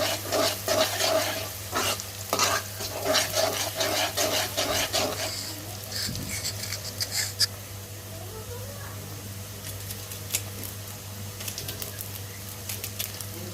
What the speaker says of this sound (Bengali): এখন পেঁয়াজ দিলাম আর তেল তরকারিটা বসাবো জন্য পেঁয়াজটা ভাজবো